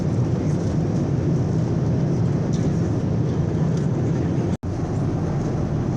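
Loud, steady airliner cabin roar fills a flight over the Faroe Islands, a constant broadband engine and air rush heard close up with one brief dropout near the end.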